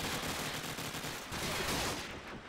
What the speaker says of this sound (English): Sees the scope again. Sends out a couple of warning shots